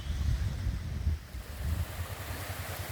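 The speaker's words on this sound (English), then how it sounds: "So the next beach along is Teluk Gorek." Waves wash onto the beach at Teluk Gorek, a quiet bay near Mersing on Malaysia's east coast, in a steady low surf rumble with swelling surges, mixed with wind buffeting the microphone and no voices.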